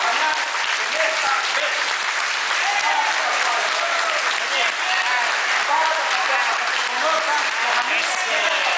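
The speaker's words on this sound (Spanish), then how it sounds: "quiero un aplauso fuerte para Pascual" Loud, steady applause from a crowd at a political rally, greeting Pascual; dense clapping fills the whole stretch without pause, with some voices mixed in.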